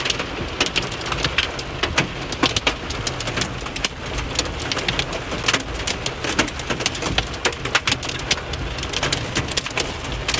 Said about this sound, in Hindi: यार बहुत ओले पड़ रहे हैं